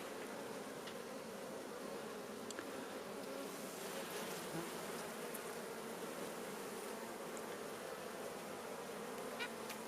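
A dense, continuous buzz of many honeybees, loud and close, droning steadily without pause.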